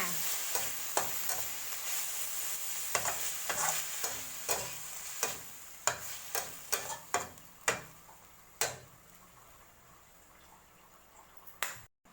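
Minced pork and holy basil stir-fried over high heat, with dry chilies, a spatula scraping and clacking against the pan in irregular sharp strokes over a steady soft sizzle, fading to quiet sizzling near the end.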